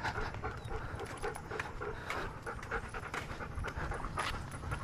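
Pet dogs on a walk pant quickly and steadily, a close, rhythmic run of breathy huffs with no other sounds.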